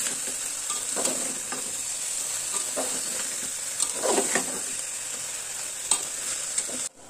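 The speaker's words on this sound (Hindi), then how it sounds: "इसको चलाते हुए भूनना है।" Half a tablespoon of garam masala is stirred and roasted in a pan for mixed vegetables, with a quiet continuous sizzle and occasional soft scrapes of the spoon against the pan.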